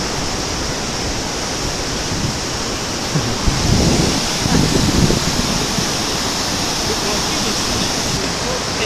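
A stream of clear, dark water flows over rocks in the Scottish Highlands, heard from a footbridge as a steady, loud broadband rush that swells a little in the middle.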